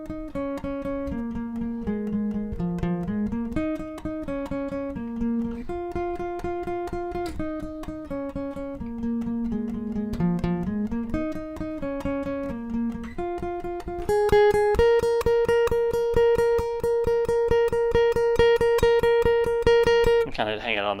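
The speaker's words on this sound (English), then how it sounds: "All right, so the guitar solo, this is really based off of the recorded version." Electric guitar plays the solo from a song, a melodic run of single notes that climbs and falls, then repeats one high note in fast steady picking, heard up close with no voices.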